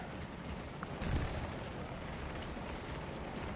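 Musket volley fire in the Scourge of War Civil War strategy game, heard as a single distant muffled boom over steady low battlefield rumble.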